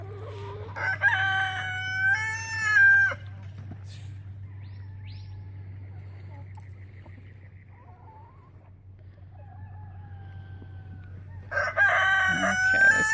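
A backyard rooster crows twice at morning feeding time, one long call near the start and another near the end, loud and close over a low steady hum, with quieter bird sounds between.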